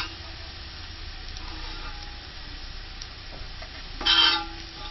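Onions brown and sizzle in a pot for chicken biryani, a soft, steady frying hiss with light stirring scrapes, then a louder scraping burst near the end as a spoon works through them.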